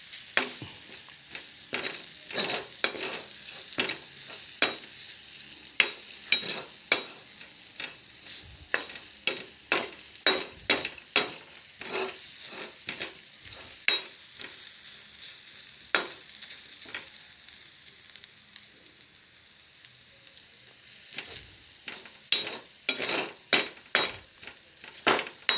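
Jackfruit frying in a pan and stirred hard with a metal utensil: a continuous crackling sizzle broken by rapid, irregular scraping clinks against the pan, close and steady throughout.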